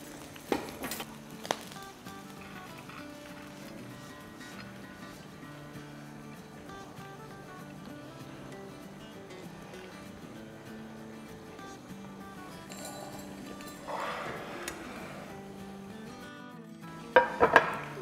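Fried rice is served from a pan into a dish. Utensils clink and scrape against the cookware in scattered taps over a low background hum, with a louder cluster of clatter near the end.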